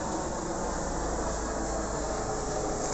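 A train at the Valley Heights Rail Museum gives off a steady, close, broadband rumble that stays even and unbroken, with no talking over it.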